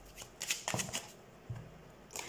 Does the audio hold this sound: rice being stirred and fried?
no